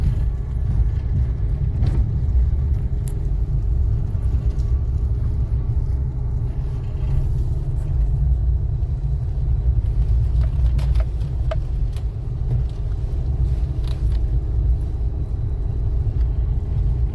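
A car creeping along in second gear on half clutch with no throttle, giving a steady, loud low engine and road rumble from inside the cabin, with only faint small clicks above it and no talk.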